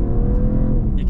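A 2024 BMW Alpina B3 Touring fitted with the M3 engine pulls hard under acceleration, a steady, loud engine drone heard from inside the car without speech.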